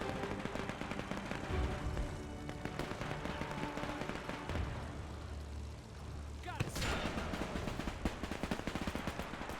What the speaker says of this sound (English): those anti-tank guns are fucking fierce